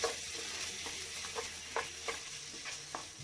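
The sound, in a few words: sauteing homemade cream in a pan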